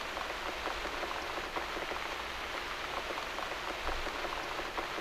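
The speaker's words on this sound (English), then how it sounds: "Damn, it's really raining out." Steady rain from the video game The Cat Lady, a dense even hiss of drops pattering on a surface throughout, with no voices over it.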